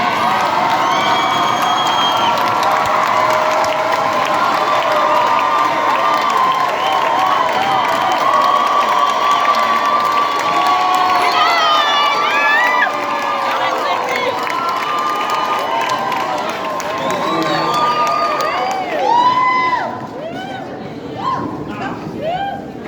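A university graduation audience claps and cheers in a large hall, a dense wash of applause, shouts and whistles that swells then thins toward the end, with voices calling out over it.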